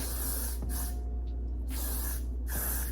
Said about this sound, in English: I'm gonna just give everything like a light spray with my Got To Be Glued